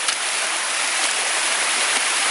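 Miss Jones Falls on the Appalachian Trail, a mountain waterfall, cascades in a steady, loud, broad rush of water, constant throughout with no voices.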